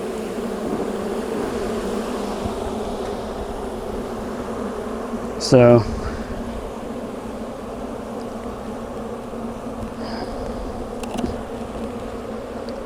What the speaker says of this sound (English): they seem to have a different buzz about them now